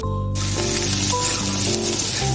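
Shrimp and dried red chillies fry in a pan with a loud, continuous sizzle and crackle, close up and alone.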